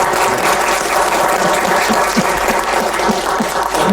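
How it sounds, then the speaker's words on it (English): An audience at a history museum discussion panel applauds with sustained, dense clapping that stays loud and even for the whole stretch, with no talk over it. "So I'm applauding for that one more time"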